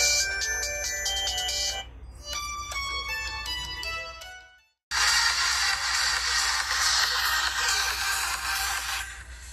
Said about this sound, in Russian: Здесь встроены достаточно такие странные рингтоны, я бы сказал, детские.